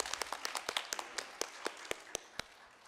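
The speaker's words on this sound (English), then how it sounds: "So a big round of applause." A small audience at a Northeast India heritage festival panel discussion applauds with scattered, crisp individual claps standing out over a faint background wash, quiet and somewhat distant, with no talking.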